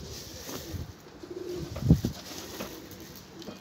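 A pigeon coos briefly, a soft low burble near the middle, against outdoor background noise.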